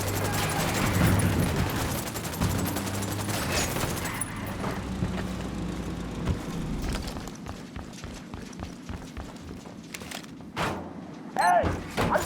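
Ghost Recon Wildlands gunfire: sustained rifle and machine-gun bursts crackle across the open ground in a firefight, with dense rapid shots and thuds, busy early then thinning into scattered sharp reports.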